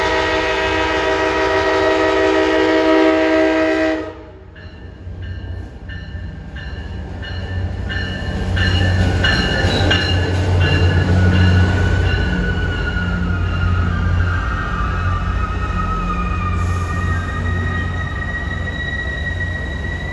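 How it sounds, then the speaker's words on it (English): A VRE commuter train pulls into Fredericksburg station, opening with a loud sustained horn blast that cuts off, then steady clattering wheels and a rising rumble as the cars roll past close by for the rest of the stretch. "Fredericksburg, train 309 is now arriving."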